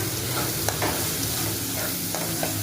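Jackfruit curry with onion, bay leaf, whole cumin and garam masala fries in a pan while it is stirred, giving a steady close sizzle with a few soft scraping knocks throughout.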